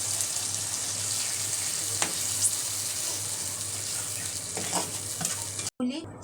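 Grated tomato fries for a fish curry, giving a steady low sizzle and bubbling with occasional spoon scrapes and taps, close and moderately quiet, cut by a short break near the end.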